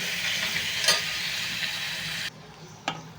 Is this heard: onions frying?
yes